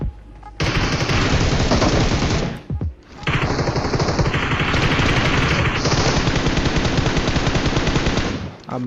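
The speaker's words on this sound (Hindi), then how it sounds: "एक बंदा एडब्ल्यू से मार रहा है किसी दूसरे को" Loud, dense bursts of automatic gunfire in the PUBG Mobile video game, sustained for several seconds, with a brief pause partway through before it resumes, then cutting off near the end.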